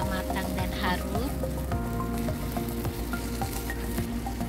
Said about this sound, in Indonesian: Lalu tumis kembali bumbunya hingga matang dan harum.